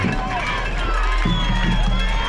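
Crowd noise at a high school football game, Howe Bulldogs at Bells Panthers, comes through as a constant, dense roar of voices and cheering close to the microphone.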